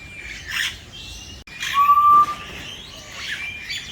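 Birds call at an aviary bird park in Singapore, with scattered chirps and whistles and one clear sustained whistle in the middle, close and fairly loud over soft background rustle.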